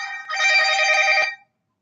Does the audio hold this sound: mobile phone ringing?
yes